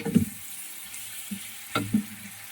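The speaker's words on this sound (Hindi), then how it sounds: "प्याज को हम सुनहरी गोल्डन सा कलर आने तक फ्राई करेंगे।" Soft sizzling of onions frying in a pan of oil, with a few stirring scrapes and clatters rising briefly over the steady hiss.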